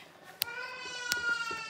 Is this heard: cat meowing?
yes